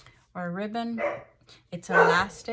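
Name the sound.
dog barking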